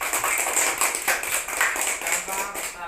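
A group of people clap their hands together in a steady burst during a classroom lesson about pictures of a Manggarai regional dance, the clapping fairly close and lively throughout.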